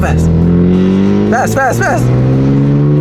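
BMW M3 engine held in second gear, a loud, steady drone rising in pitch as it accelerates, with people talking over it inside the car.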